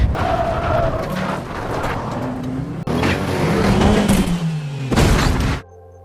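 Police car chase in an action film: loud engines rev and race past with rising and falling whines, a few sharp impacts, then the noise cuts off abruptly.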